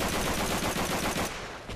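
Rapid automatic gunfire from the video game Call of Duty 3 rattles in a dense, fast burst that stops abruptly, with a short tail of weaker shots and no talk over it.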